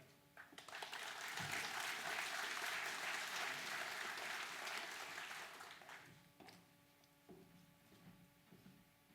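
A conference audience applauds a speaker being welcomed, a dense swell of clapping that builds, holds for several seconds, then thins to scattered claps as a few sounds from the stage follow.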